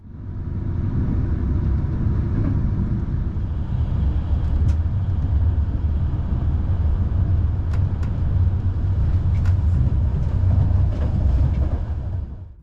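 A CFR Călători passenger train travelling from Budapest toward Romania rumbles steadily with a low, continuous rolling drone from inside the carriage and occasional faint clicks and rattles, with no talk.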